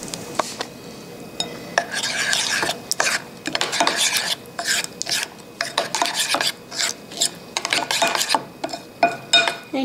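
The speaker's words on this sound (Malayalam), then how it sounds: "ഞാൻ ബാക്കിയുള്ള ബീട്രൂട്ടിൻ്റെ ജ്യൂസ് ഇതിൽ ഇട്ടിട്ട് ഇളക്കിയെടുക്കാൻ പോവുകയാണ്." Rapid scraping and stirring strokes rasp against a vessel as leftover beetroot juice is stirred into a whipped mixture for homemade then mittayi, near and steady in short bursts, no voices.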